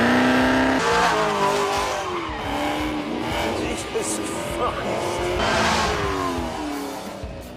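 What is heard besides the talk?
Hennessy-tuned 1,000 horsepower Chevrolet Camaro engine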